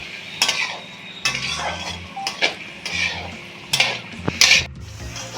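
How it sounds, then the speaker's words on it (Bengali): Vegetables sizzle in a pan while a utensil repeatedly scrapes and clanks against the metal in irregular strokes. "সবজিটাকে আমি গ্যাসটা একটু মিডিয়ামে রেখে ভেজে নেব"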